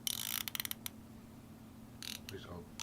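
Ratchet wrench removing 12mm bolts from a Honda Grom fender, a quick burst of close clicking followed by a quiet gap, then another short run of clicks, faint overall.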